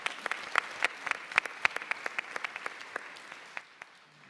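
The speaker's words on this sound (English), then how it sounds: "Go ahead, you can clap for that, it's pretty awesome." Applause at a U.S. Soccer annual general meeting, thinning to a modest scattering of individual claps with distinct sharp hits that gradually taper off toward the end.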